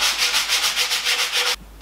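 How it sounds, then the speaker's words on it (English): Light sanding across a chalk-painted furniture piece makes close, rhythmic back-and-forth rasping strokes, about a dozen quick passes, ending abruptly with a brief quiet tail. "you need to give the piece a light sanding all over just to flatten the paint"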